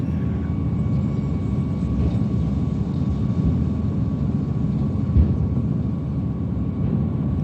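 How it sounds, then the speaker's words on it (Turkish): Hydraulic tipping bed of a dump truck rising at an excavation dump site in Sarıyer, heard as a steady low engine and pump drone throughout, with a brief thump partway through. "Kalkıyor damperimiz."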